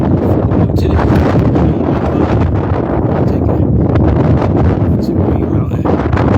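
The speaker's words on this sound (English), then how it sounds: "I don't recommend people going up mountains when it's real windy like this." Strong wind on a mountain hike on Green Mountain roars and buffets the microphone loudly and continuously, a dense, gusty rush with no pause.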